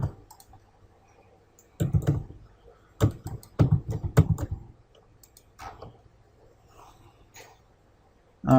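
Keyboard keys clicking in a quick burst of sharp taps while working in CATIA CAD software, a few close, crisp clicks followed by quieter scattered taps.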